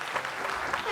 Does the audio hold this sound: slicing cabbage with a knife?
no